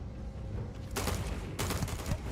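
Rapid bursts of gunfire from the video game Starfield, two dense volleys of loud shots in quick succession over a steady background of game noise.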